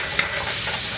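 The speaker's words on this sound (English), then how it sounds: "And stir that around." Food frying in extra virgin olive oil is stirred in a pan, a close, steady sizzle with scraping movement throughout the short moment.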